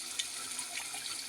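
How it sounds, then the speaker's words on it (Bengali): Hot water poured into a pot of meat curry with potatoes, a soft continuous splashing pour heard close and fairly quiet for a brief moment, with no talk. "গরম পানি দিয়ে দিলাম"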